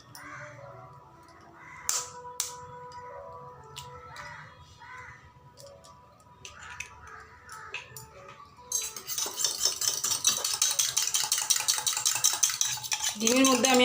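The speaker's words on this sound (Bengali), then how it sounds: "তো এখানে আমি ডিমটাকে প্রথমে ভেজে নিব।" Egg hits a hot pan and begins frying: first scattered clinks of utensils, then a loud, dense sizzling hiss that takes over and keeps crackling to the end.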